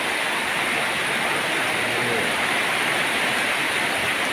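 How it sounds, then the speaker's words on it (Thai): Heavy evening rain pouring down outdoors during a thunderstorm, a dense, steady, loud broadband hiss that never lets up, close by and continuous with no voices. "ฝนเทเลยครับ"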